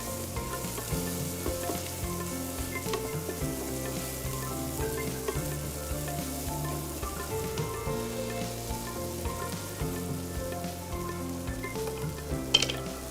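Ground spices, turmeric and red chilli powder, sizzling and frying in a hot pan, a steady crackling hiss with occasional stirring scrapes, close and continuous with no voices.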